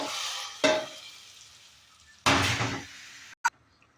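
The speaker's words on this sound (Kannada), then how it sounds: "ಈ ಥರ ಒಗ್ಗರಣೆ." Hot tempering poured into a pot of dal fry hisses in two loud bursts of sizzling, each fading as it is stirred in, ending with a short sharp clack of a utensil.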